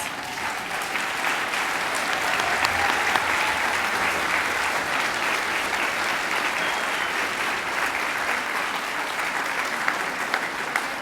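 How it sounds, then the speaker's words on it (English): A standing audience at a high school academic achievers recognition ceremony gives sustained, even applause, a dense wash of clapping that continues unbroken for about eleven seconds. "I think we should stand and give all of our academic achievers a big round of applause"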